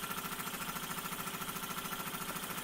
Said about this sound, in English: 1948 Mamod SE1 under steam for the first time after its renovation